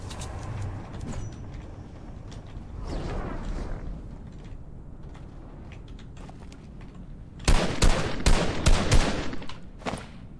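Gunfire erupts in a Fortnite duos battle royale match, a cluster of sharp, loud shots near the end following quieter game ambience and movement noise.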